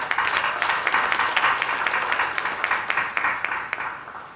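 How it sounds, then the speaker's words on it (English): An audience claps and applauds steadily for an award nominee, dense continuous clapping at close range filling the room without a break. "So can we give her a round of applause again?"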